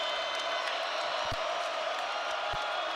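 Steady roar of a basketball crowd in Athens during a Tennessee vs Georgia game, broad and continuous, with a couple of dull low thumps breaking through.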